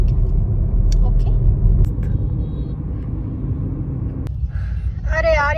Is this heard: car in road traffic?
yes